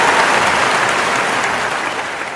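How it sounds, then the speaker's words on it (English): A studio audience claps in a loud, even burst of applause that stays steady, easing off only slightly near the end. "can we get a round of applause though?"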